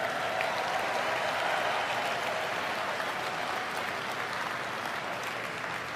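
A large live audience at a World of Warcraft announcement applauds and cheers, a dense, steady wash of clapping and crowd noise sustained throughout with no pauses.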